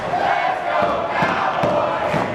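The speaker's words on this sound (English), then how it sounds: "you can hear the crowd in Hialeah starting to rally behind the Wrangler" Wrestling crowd in Hialeah rallying behind a wrestler during a match, a sustained roar of cheering and shouting voices with rhythmic swells, loud and continuous throughout.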